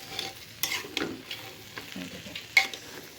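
Rice is fried with spiced meat in a pan for khichuri, with soft sizzling under repeated stirring scrapes and knocks of a spoon, close and fairly quiet.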